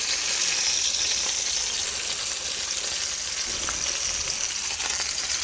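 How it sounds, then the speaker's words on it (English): Steak sears in a hot pan with a loud, steady, dense sizzle throughout, crackling evenly with no voices over it. "We're gonna sear this. We're gonna burn the hell out of this."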